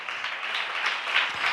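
A church congregation claps hands overhead to glorify God, a dense, steady wash of many hands clapping together, loud and continuous, with no voices rising above it.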